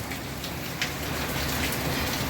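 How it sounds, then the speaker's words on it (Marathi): Steady, close rainfall patters evenly on a surface, with no voices. "हे बघा पाऊस चालू"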